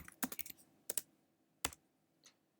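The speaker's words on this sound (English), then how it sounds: "You bring up the Matlab GUI interface, and you can type in commands" Typing commands into Matlab on a computer keyboard: quick clusters of close keystrokes, then a few isolated taps with pauses between, in a quiet room with no talking.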